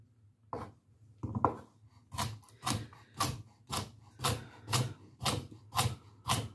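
A knife cuts a whole carrot into quarter-inch pieces on a cutting board for a lemon tarragon chicken stew, giving about a dozen close, crisp chops in an even, steady rhythm.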